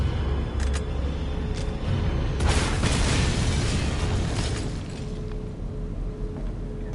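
A rocket launcher explosion in a Resident Evil video game: a loud, sustained rumbling blast with a burst of debris crackle early on, fading slightly toward the end, with no talk.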